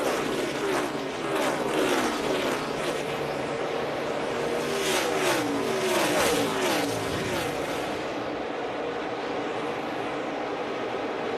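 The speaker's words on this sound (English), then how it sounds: "Kenseth with a look to the inside of Dale Jr. for the 4th spot" NASCAR stock cars race at the 2013 Ford EcoBoost 400, a loud, steady engine roar with several cars sweeping past in overlapping waves before the sound thins toward the end.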